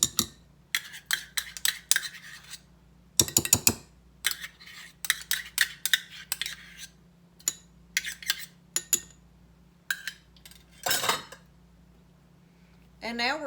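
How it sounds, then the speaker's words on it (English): A quarter cup of pumpkin puree being spooned into a mason jar for homemade pumpkin spice coffee creamer, a string of close metallic spoon clinks and scrapes against glass in irregular bursts with short pauses between them. "So now we're just going to add our 1/4 cup of pumpkin puree."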